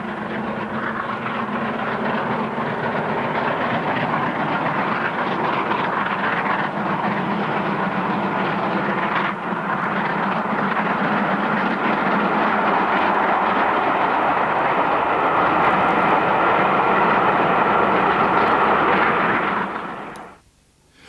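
A steam locomotive on the Waterloo–Exeter and Exeter–Paddington via Berks and Hants run hauls its train in a steady, loud continuous roar of wheels and exhaust, sustained throughout before ending abruptly.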